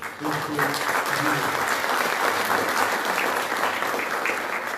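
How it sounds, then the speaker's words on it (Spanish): An audience at a law-faculty book presentation applauds warmly, a full, even wash of clapping that holds steady for several seconds, with a voice faintly at the start. "Saludamos con un fuerte aplauso."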